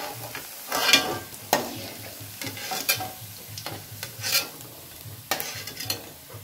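Tempeh and tofu fry in hot oil with a steady sizzle, while a spatula scrapes and stirs the pan in repeated strokes.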